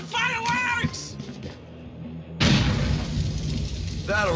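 Fireworks exploding in GTA IV, a sudden loud burst that breaks into a sustained crackling, rumbling roar, with voices and a cat-like whine heard earlier in the clip.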